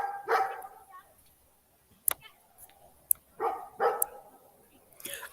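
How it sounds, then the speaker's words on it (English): A big dog barks in short bursts from behind, a few separate barks spread out at moderate distance, with soft household background between them. "watching the big dog behind me bark"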